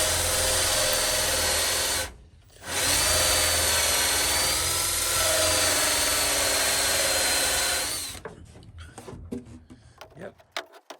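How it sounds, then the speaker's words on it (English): A 2¼ inch (57 mm) hole saw on a power drill cuts spotlight holes in a Ford F-350 truck bed, a loud steady whine running for about eight seconds with one brief pause, then fading into scattered clicks. "So here I am drilling the holes for the spotlights, and the size of the drum, the circular drum, is 2¼ inch, equaling 57 millimeters."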